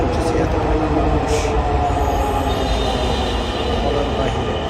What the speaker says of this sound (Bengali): এখন মেট্রোর জন্য ওয়েট করতেছি।